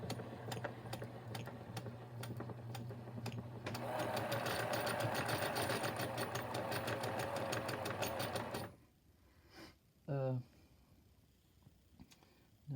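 A vintage Free-Westinghouse sewing machine runs with a steady mechanical clatter of rapid, even ticks. It speeds up to a denser, louder whir for several seconds, then stops abruptly, leaving quiet with brief sounds and a voice.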